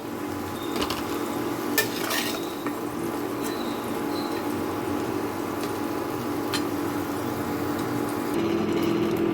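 Continuous sizzle of frying under scattered clinks and scrapes of a utensil against a pan as fried potatoes are lifted out, close and fairly loud, no voices.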